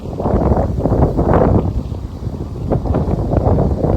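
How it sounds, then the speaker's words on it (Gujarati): Strong wind on a rocky hilltop buffets the microphone in loud, rumbling gusts that rise and fall throughout. "પવન પણ ઘણો બધો આવે છે અહીંયા"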